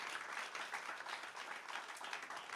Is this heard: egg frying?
no